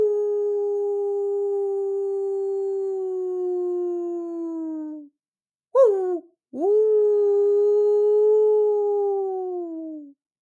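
A man imitates a dog's deep, guttural howl with his voice: two long, sustained low howls that sag slightly in pitch, separated by a brief rising yelp, close and clear with no other sound.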